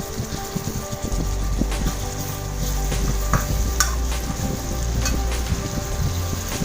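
Chopped onions with ginger-garlic paste sizzle in a pan while a spoon stirs and scrapes through them, a continuous close frying crackle with periodic stirring strokes.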